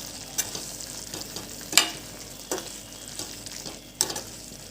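Chili chutney frying in a pan while being stirred, for a hotel-style green chili gravy, with soft continuous sizzling and a few sharp scraping clicks of the spoon against the pan.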